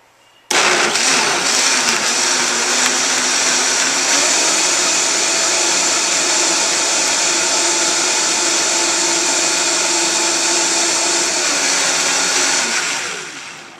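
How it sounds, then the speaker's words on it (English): A blender running at home, blending vegetable broth: a loud, steady high-pitched whirring roar that starts abruptly and holds for about thirteen seconds before winding down. "you can blend it in your blender at home"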